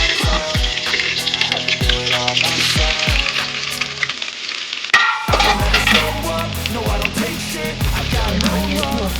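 Onions hit hot oil in a pan for a boiled egg curry, a loud, bright, crackling sizzle with spoon clinks and scrapes, pausing briefly before the frying roars back, close and without talk.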